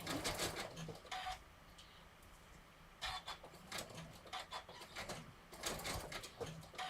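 A sewing machine stitches in reverse over a few stitches on a rope handbag embroidery project, running in three short, quiet bursts of rapid mechanical whirring with pauses between.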